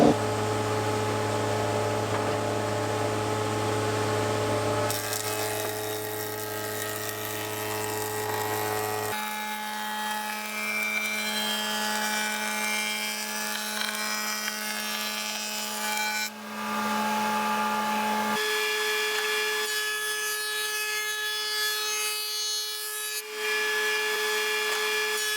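A spindle moulder cutting a 15mm rebate in an oak casement window frame, giving a sustained whining machine hum with shifting tones as the cut proceeds, loud and close with no talk.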